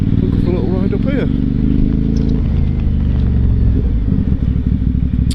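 Aprilia Shiver 750 motorcycle riding around a seaside town in February, its engine a loud, steady droning rumble throughout as someone talks over it.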